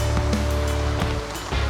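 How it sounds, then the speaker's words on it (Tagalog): Heavy rain pouring down at a mountain campsite, a dense continuous hiss with a few sharper drips and taps standing out over the steady wash. "Ang lakas na po ng ulan"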